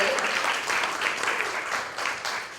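A group applauds in a grief support gathering, steady continuous clapping from many hands that holds at an even level throughout, with no voices over it.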